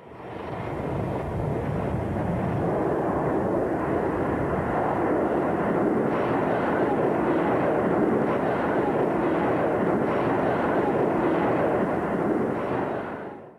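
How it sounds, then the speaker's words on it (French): A jumbo jet overloaded with more than a thousand passengers takes off, producing a loud, sustained broadband engine roar that holds steady throughout and fades slightly at the end. "Le premier jumbo s'envole avec 1078 passagers, battant tous les records de surcharge au décollage."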